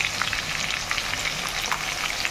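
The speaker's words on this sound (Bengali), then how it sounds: "তো মশলাটা দিয়ে বেশ ভালো করে একটু কষিয়ে নিয়েছি" Cumin, coriander and chilli flakes fry in a pan with a dense, crackling sizzle, close and steady throughout, with scattered sharper pops and no speech.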